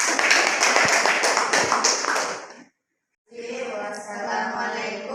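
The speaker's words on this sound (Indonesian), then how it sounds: "beri tepuk tangan untuk kelompok 3" Classroom students applauding a discussion group, a burst of close, fairly loud clapping for a couple of seconds, then a brief silence before murmuring voices resume.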